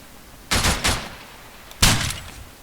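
Long-range rifle fire in the military video game Arma 3, two loud close shots in quick succession followed by a third about a second later, each with a short rumbling tail.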